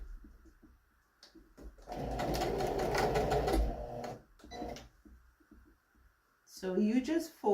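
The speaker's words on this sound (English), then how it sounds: "So I'm just going to go ahead and fold over and stitch." A sewing machine runs steadily for about two seconds as it stitches a folded-over fabric seam, loud and close, with short quieter bursts of stitching and some speech before and after.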